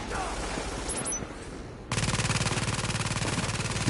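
In the video game The Division, a deployed turret opens up with a rapid, evenly spaced stream of automatic gunfire that starts abruptly partway in and keeps going, following quieter background game noise.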